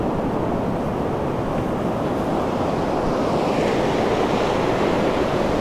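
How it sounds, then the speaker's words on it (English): Sea waves crash onto the shore at Mappleton on the UK coast on a Friday evening, a loud, continuous roaring surf mixed with wind buffeting the microphone, with no voices. "it's just the waves crashing in"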